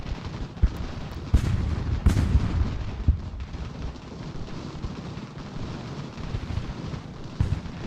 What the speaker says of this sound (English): we had mortars. Mortars here are so awesome.